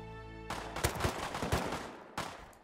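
Revolver gunfire in the Rust video game: a burst of several sharp, loud shots fired in quick succession, then a pause and one more crack near the end.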